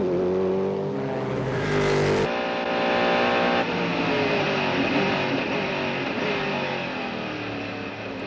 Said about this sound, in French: Christophe Bouchu est au volant et vous convie à bord de la Mercedes pour un tour commenté